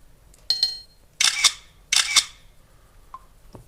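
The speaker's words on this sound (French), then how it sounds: "en plus le déclencheur il fait pas mal de bruit" Camera shutter release firing three times, a single crisp mechanical click followed by two double-clack bursts, sharp and close in a quiet room, with a faint beep near the end and no talk.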